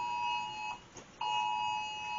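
A phone alarm rings in a home kitchen where a sponge cake is baking, a loud steady electronic tone that breaks off briefly and resumes.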